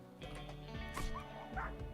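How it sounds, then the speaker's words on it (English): A wild dog in the video game RimWorld yips and barks in quick bursts over layered game sound and music, a few sharp calls close together across two seconds. "We have a wild dog chasing us too?"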